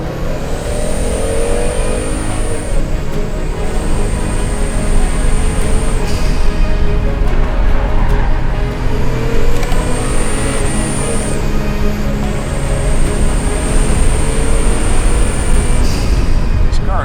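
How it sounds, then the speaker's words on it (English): Volvo V70 R turbocharged engine accelerating in-car, a loud sustained exhaust growl with a high turbo whistle rising and cutting out between gear changes, continuous and close. "The exhaust begins to growl, and the turbo starts whistling like an old-fashioned running car."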